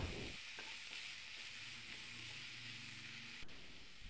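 Chopped onion, green chili, garlic and ginger sizzle and fry gently in a pan while being stirred, a soft steady hiss with light scraping and a brief knock near the end, no talk.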